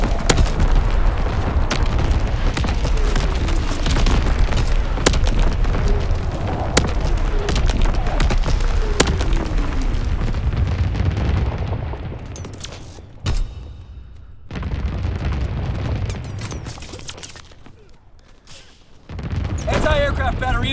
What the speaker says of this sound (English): Artillery ready for orders, awaiting coordinates. Firing battery one.